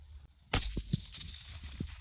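Rifle shot fired at a distant target: one sharp, loud crack bursts out and rings off, followed by a few faint thumps and low rumbles.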